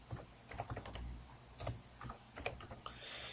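Keys on a computer keyboard are tapped in quick, irregular bursts of close, soft clicks as a website address is entered, with no one speaking.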